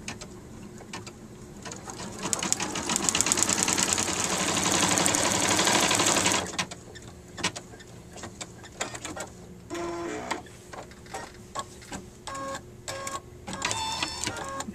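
An embroidery machine stitches a face design onto fleece for a plush Easter egg, giving a loud, dense run of rapid mechanical needle chatter for several seconds, then stopping into quieter intermittent clicks and short whirring bursts.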